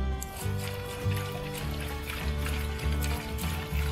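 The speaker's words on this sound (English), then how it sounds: "Add a little more water." Water is poured into home brew wort in a container, giving a continuous trickling fill with hollow, ringing resonant tones that shift in steps as it runs.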